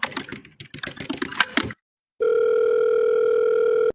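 A telephone call is placed: rapid clicky keypad taps come first, then after a short silence a steady, loud dial tone holds unbroken to the end.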